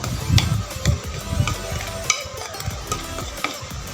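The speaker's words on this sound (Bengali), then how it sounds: "শুকনো উপাদানগুলো ভালো করে একটু মিশিয়ে নিব।" Dry ingredients for potato snacks being mixed in a bowl, heard as rhythmic scraping and stirring strokes with a few light clinks, close up and with no talking.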